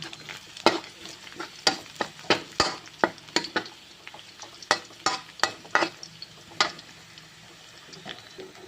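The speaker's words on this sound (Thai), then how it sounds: "อันนี้ก็คือเจียวกระเทียมให้หอมนะคะ" Garlic fries in a pan, giving a steady sizzle while a utensil scrapes and stirs in repeated sharp strokes about every half second, loud and close with no talking.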